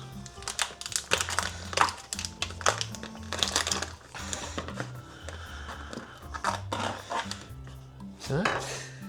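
Raw lamb is chopped into small cubes with a knife on a cutting board in a home kitchen, giving repeated close knocks and thuds in an uneven rhythm, with some soft packaging crinkle.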